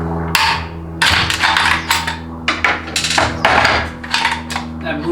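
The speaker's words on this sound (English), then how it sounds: "And if you need to, you can just take a hammer too." A hammer striking the reverse input drum of a 700R4 automatic transmission during a teardown, giving a close, loud series of sharp metallic blows in an uneven rhythm, roughly seven or eight strikes, with ringing between them.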